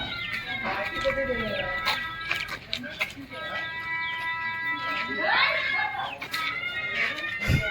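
A cat meows several times in a Konkan village setting, its drawn-out, rising and falling calls fairly close and clear, with people talking and other background noise around it.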